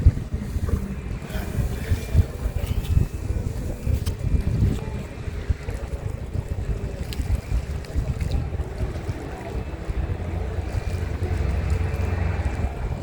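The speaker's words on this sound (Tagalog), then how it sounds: "Lakas pa naman ng hangin." Steady, heavy wind buffeting the microphone with a low continuous roar, like gusts out on open water, with no pauses.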